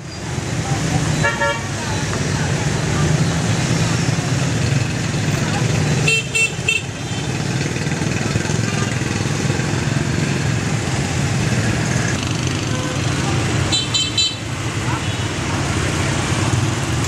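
Busy city traffic in Hanoi, Vietnam, heavy with motorcycles: a constant close roar of engines with short bursts of horn toots every few seconds, under a narrating voice.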